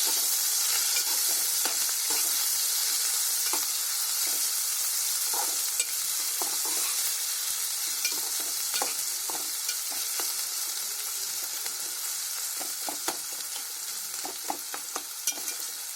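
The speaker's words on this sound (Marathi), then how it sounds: "आता हे आहे ना फोडणीचं साहित्य सगळं असं चांगलं हलवून घ्यायचं" Spice tempering for sweet and sour masoor dal sizzles steadily in a hot pan on a gas stove, with a continuous bright crackle and scattered scraping clicks as it is stirred.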